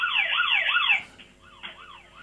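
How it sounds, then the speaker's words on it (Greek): During a live discussion, a loud electronic alarm wails in rapid rising and falling sweeps. It cuts off after about a second, then returns more faintly in short bursts. "Συναγερμός."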